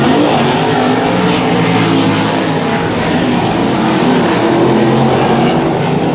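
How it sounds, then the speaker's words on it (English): Sprint cars race on a dirt oval speedway in a heat race, a loud continuous roar of engines on the final lap with no talk over it. "white flag fly, Jerry Hammock, 1 lap to go"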